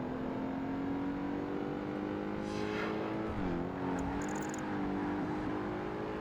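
A Koenigsegg race car engine in Project Gotham Racing 2 drones at a high, sustained pitch, revving loud and continuous with a brief dip and recovery as the car shifts or corners.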